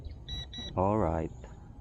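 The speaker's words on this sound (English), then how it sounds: "which one is giving out a low voltage alarm" Two short, high-pitched electronic beeps from a low-voltage alarm on a 3-channel military-grade RC drone, quick and evenly spaced, followed by a person speaking briefly.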